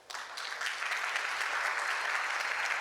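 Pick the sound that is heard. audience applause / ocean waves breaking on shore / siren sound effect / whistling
audience applause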